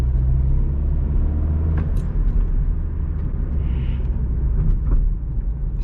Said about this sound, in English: When you put it in the lower gears, it is a noisy ass car.